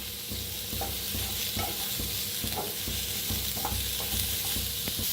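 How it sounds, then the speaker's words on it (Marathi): Onion frying in mustard oil in a pan, a steady close sizzle with regular scraping strokes of a spatula roughly every second, no voices. "आता कांदा थोडासा हलकासा भाजत आलाय"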